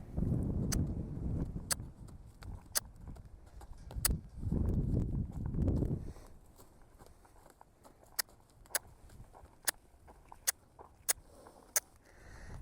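A ridden horse moves into a trot: low rumbling noise fills the first few seconds, then sharp, evenly spaced hoof strikes ring out over a quiet background.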